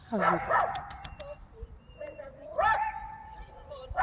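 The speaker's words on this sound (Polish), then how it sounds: "Piesek nam szczeka." A dog barks and yips close by, a few sharp barks mixed with higher whining yelps, while a person talks over it.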